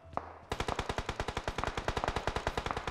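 Rapid automatic gunfire from a battle royale video game, loud and close, with a single shot and brief pause before a sustained, steady burst of regular rounds.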